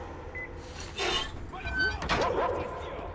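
A dog in the video game Metro Exodus gives a few short yips and whimpering barks, moderately loud, mixed with scuffling noise and sounds from the game.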